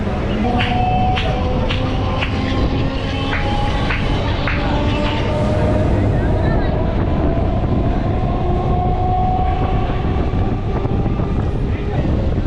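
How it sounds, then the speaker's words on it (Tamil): A suburban train rumbles and rattles continuously entering Saidapet railway station in Chennai, wheels clattering over joints and a squealing tonal whine as it moves through, under faint voices. "இப்போது ட்ரெயின் வந்து சைதாப்பேட்டை ரயில்வே ஸ்டேஷனுக்குள்ள என்ட்ரியாக வந்து"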